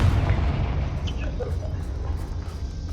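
A Confringo blasting spell in Hogwarts Legacy erupts in a deep, rumbling explosion that booms at the start and lingers as a dense roar that slowly fades.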